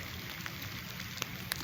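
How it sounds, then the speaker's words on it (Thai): Rain falls steadily over Mueang Takhaek in rural Thailand, a faint, continuous hiss with a few sharper drop impacts, with no talk. "ฝนตกอยู่เมืองตะแคก"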